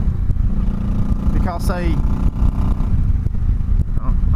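A 2004 Honda Sabre 1100 motorcycle exhaust drones steadily while riding, a loud, continuous low rumble with wind buffeting, as someone talks briefly over it.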